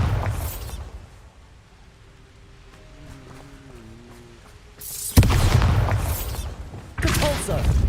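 A Bombarda spell explodes in the video game Hogwarts Legacy, a loud booming blast that arrives suddenly after a quiet hum, followed by a rumbling tail and a second heavy burst.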